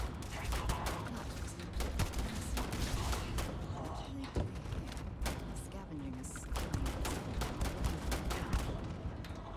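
Gunfire from non-player characters fighting each other in the video game Starfield, a dense stream of rapid shots and thuds at moderate distance, continuing under someone talking.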